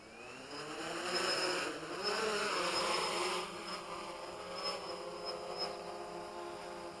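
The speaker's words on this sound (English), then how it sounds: "we gotta start the motors. I'm just gonna go ahead and take off." The motors of an XK Detect X380 GPS quadcopter drone whine with a high, buzzing insect-like drone that rises as it lifts off in flight, sustained and fairly loud throughout, with no talking.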